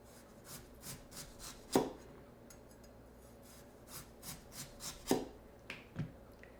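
Knife slicing a vegetable on a cutting board for a doenjang stew, a series of soft, crisp cuts with two sharper, louder knocks against the board, close and with no voices.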